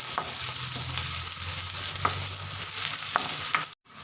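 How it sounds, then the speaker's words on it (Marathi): Finely chopped onion sizzles and fries in about two and a half spoons of oil for green-pea poha, stirred with scraping touches throughout before a sudden brief cutoff near the end. "आता त्यामध्ये बारीक चिरून असा कांदा कांदा छान परतून घ्यायचा"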